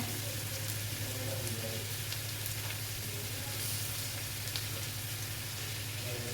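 Two large chopped onions sautéing in hot oil in a pan for biryani give off a steady, even sizzle over a low background hum, unbroken and fairly quiet, with no talking.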